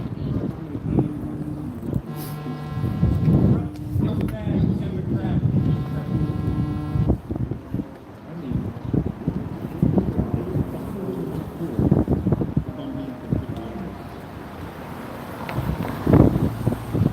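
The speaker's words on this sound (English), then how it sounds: "I knew it was gonna a be little windy, isn't it?" Steady wind buffeting the microphone with rumbling gusts throughout, people talking over it and a brief tonal hum in the background.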